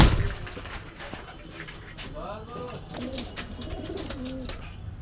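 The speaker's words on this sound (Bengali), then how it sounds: "কবুতরটা খুব সুন্দর একটা কবুতর," Pigeons at a shop in Gollamari, Khulna, cooing in repeated soft, throaty warbles close by, under a steady background murmur, with a brief clatter at the start.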